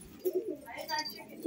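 Young pigeons coo on a rooftop, a few soft, low throaty coos close by, with faint background voices.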